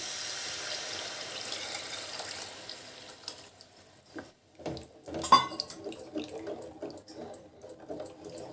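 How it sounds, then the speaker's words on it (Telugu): Tamarind water pours into a simmering Andhra-style fish curry, a close liquid splashing and trickling that fades out partway, then gives way to a few irregular stirring and dripping sounds. "ఇప్పుడు చింతపండు నీళ్ళు పోస్తాను"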